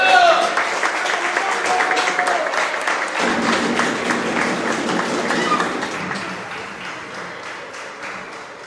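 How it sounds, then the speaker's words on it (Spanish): A crowd at a Copa México Temazcal 2022 awards ceremony applauds loudly, dense clapping that gradually thins and fades toward the end. "Un aplauso, por favor."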